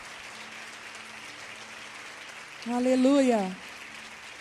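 A church congregation applauds in a steady wash of clapping that fills the whole stretch, while a single voice calls out loudly over it near the end.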